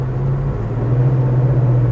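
A 1972 Chevrolet Chevelle SS with a 496 cubic inch big block V8 and 4-speed manual rumbles loudly from close by, a steady deep engine drone with a strong low hum while driving.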